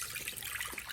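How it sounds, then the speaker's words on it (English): Water pours into a pan for steaming broccoli, a brief steady splashing rush heard close and alone with no talking. "So Harry, can you please pour in the water?"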